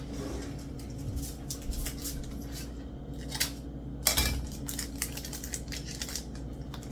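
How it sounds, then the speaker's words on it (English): Scissors snip close by in a few crisp, irregular cuts, with light rustling and handling noises between them. "Of course, I need scissors."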